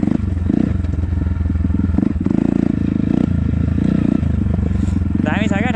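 A motorcycle rides a jungle trail in Bhojpur, East Nepal, its engine droning steadily close by with clattering and scraping over rough ground while people talk throughout.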